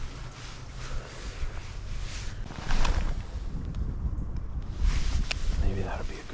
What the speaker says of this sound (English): Very windy this morning,